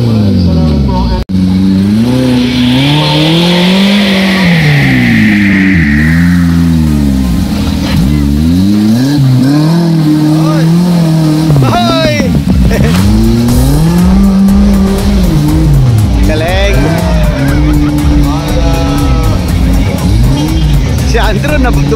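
A Suzuki Samurai 4x4 races in an off-road challenge at a founding anniversary event, its engine revving and rising and falling loudly through gear changes, with tyre noise and a commentator talking over it throughout.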